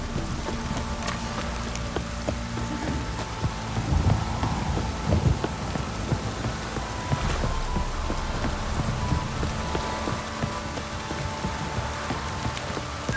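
Heavy rain pours steadily during a downpour in The Witcher 3, a constant broad hiss with low rumbling underneath and no voices.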